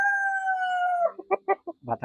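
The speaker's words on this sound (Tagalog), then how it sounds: "Ito yung rooster." A Lavender Orpington rooster gives a long drawn-out crow, followed by several short clucks, close and clear with no other sound.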